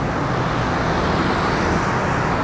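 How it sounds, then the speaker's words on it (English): Busy Bangkok street traffic near a market forms a dense, continuous roar of passing cars and buses, loud and close with no breaks or voices. "Quite a bit of traffic out today too."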